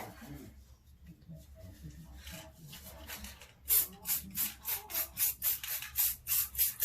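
A spray paint can spraying copper paint onto the base of a vase, heard as a run of about nine short, hissing bursts in a steady rhythm, close and fairly loud after a quieter stretch of faint rustling.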